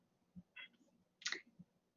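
Two soft clicks of a computer mouse, close and faint, with small taps around them in an otherwise quiet room.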